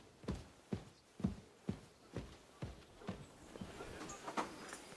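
Horse hooves clip-clop at a steady walking pace in Kingdom Come: Deliverance 2, about ten distinct close hoof strikes in even rhythm, with faint background ambience.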